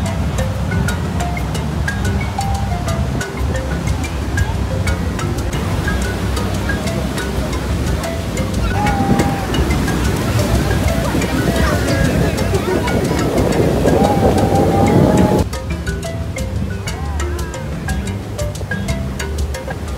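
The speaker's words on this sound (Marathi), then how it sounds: "पावसाळा असल्यामुळे भरपूर मोठ्या प्रमाणात लाटा होत्या" Big monsoon ocean waves rolling onto a crowded North Goa beach, a steady loud roar of surf and wind across the whole stretch, swelling slightly before easing near the end.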